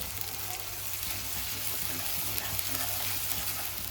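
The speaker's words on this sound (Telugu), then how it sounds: "ఇదిగోండి ఇదైతే వేగుతుంది కదా" Raw spice masala fries steadily in a pan for mutton curry, a continuous close hiss and sizzle with faint stirring scrapes throughout.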